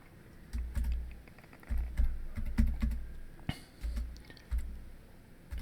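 Fingers tap on a computer keyboard in short irregular clusters of soft clicks, close by and fairly quiet, with no voices.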